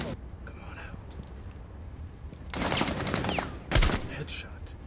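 Sniper rifle gunfire in Rainbow Six Siege during a hostage situation fought from an adjoining indoor room: two sharp, loud shot bursts close together late in the clip, over low game ambience.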